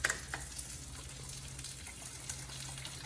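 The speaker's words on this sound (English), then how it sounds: "Let's get the sauce going in the pan." Sauce bubbles and sizzles quietly in a pan, a faint, even frying hiss with a low hum beneath and a couple of light clicks near the start.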